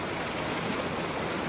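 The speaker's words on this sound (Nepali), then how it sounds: "बगिन्छ क्या यार यो खोलाले म त" A mountain stream rushes in a steady, dense wash of flowing water, close by and unbroken, with no voices over it.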